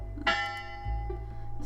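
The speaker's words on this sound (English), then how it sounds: "the bell at the center of campus begins to ring" In a visual novel video game, the bell at the center of a school campus rings with a resonant clang that fades over a low steady hum.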